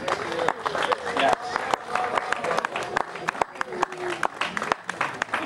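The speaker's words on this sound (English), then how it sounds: "And please, a big resounding round of applause, please." A gathered crowd at an outdoor community celebration gives a round of applause, scattered, uneven hand claps with individual sharp slaps standing out, mixed with cheering and chatter.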